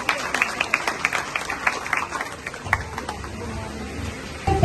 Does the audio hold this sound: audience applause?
yes